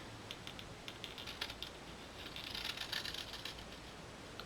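Paper is detached along fold lines while making a craft basket, giving a quiet, steady crackle and patter of small tearing clicks at close range with no talking.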